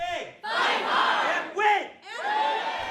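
A packed crowd cheers and shouts at a campaign office opening ceremony in support of Warren, a loud, continuous roar of many voices that dips briefly twice before rising again.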